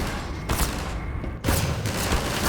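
Rapid assault rifle fire from the Half-Life 2 video game comes in two loud, dense bursts with a steady rattle of shots between them, heard alone without talk.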